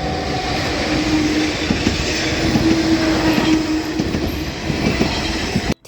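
A train rolls past close by the sea in Japan with a steady rumble and rhythmic clickety-clack, and thin wheel squeals cut in now and then.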